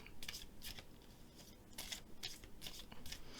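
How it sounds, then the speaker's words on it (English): A deck of tarot cards is shuffled by hand in quiet surroundings, a series of soft, crisp riffling bursts repeating in an uneven rhythm, close and faint. "Let's get these shuffled really well"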